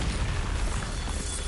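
A Bombarda spell explosion in the video game Hogwarts Legacy, a loud sustained booming burst with heavy low rumble that fills the whole moment with no pause.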